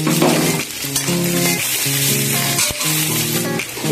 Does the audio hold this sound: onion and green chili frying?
yes